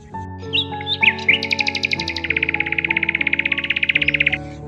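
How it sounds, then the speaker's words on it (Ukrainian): Bright, clear birdsong close by in a forest: a few varied whistled phrases, then a long fast rhythmic trill, loud with no other sounds. "Вірно, це так весело співають птахи."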